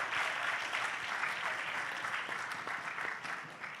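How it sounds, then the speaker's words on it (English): A congregation at a Bible meeting on business finances gives a team a round of applause, continuous crowd clapping, fairly soft and distant, gently fading toward the end with no speech over it. "Can we give a round of applause"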